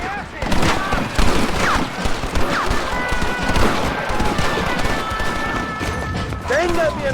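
Gunfire from a fight against thugs in Red Dead Redemption: dense bursts of shots and rapid fire run throughout, loud and continuous, with shouting voices mixed in over the battle.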